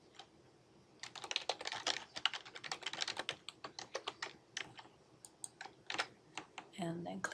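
Rapid, steady keystrokes on a computer keyboard while entering an image description, a dense run of close clicks with brief pauses and a different shuffling sound at the end.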